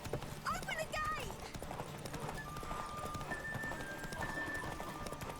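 Roach the horse gallops through a race in The Witcher 3, with rapid rhythmic hoofbeats running throughout and a whinny early on, all mixed with game music and someone talking.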